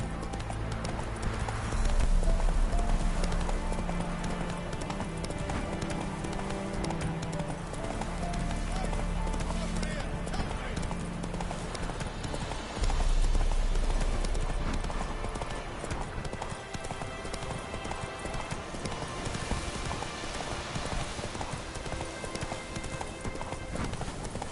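Horse hooves gallop steadily through a Witcher 3 game scene, a dense clip-clop rhythm running under loud music and ambient battle noise, with a couple of brief surges in volume.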